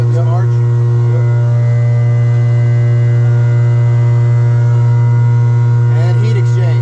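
Air sparge blower running on an environmental test skid for air sparge and soil vapor extraction, giving a steady loud drone with strong low hum and tonal harmonics that holds throughout, with a brief voice near the end.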